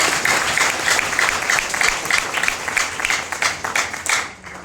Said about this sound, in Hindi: तालियां बजा दीजिए इसके लिए